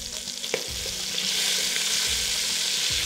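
Bacon fries in a pan for a spicy beef stew, a close, steady sizzling hiss with scattered pops and a few soft utensil knocks, no voices over it.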